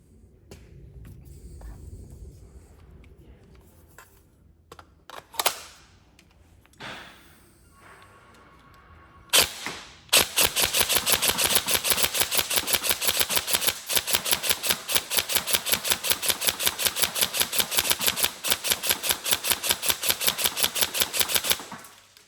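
A Tokyo Marui 416 Delta airsoft gun with an A5 grip fires after some handling clicks, first a couple of single shots, then a long rapid full-auto burst of sharp mechanical cracks, close and loud.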